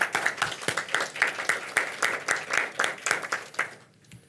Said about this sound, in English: So huge round of applause for all of you.